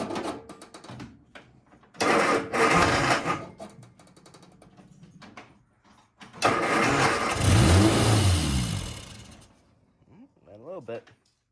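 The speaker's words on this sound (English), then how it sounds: "We're gonna try to start it up again" A 1971 MG Midget cranks over in two separate attempts, the second catching into a rough, uneven idle for a few seconds before cutting out, with people talking quietly between tries.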